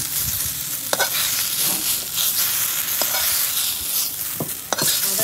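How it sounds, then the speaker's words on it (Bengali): Papaya pieces frying in hot oil, giving a steady close sizzle with sharp clicks of stirring and scraping throughout, no voices. "পেঁপেগুলো ভেজে নেবো।"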